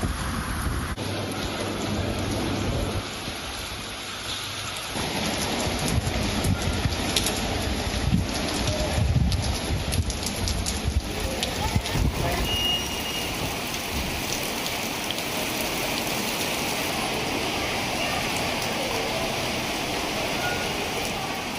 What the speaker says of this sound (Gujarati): સાંજ પડતા જ આ વરસાદી માહોલ સર્જાયો છે।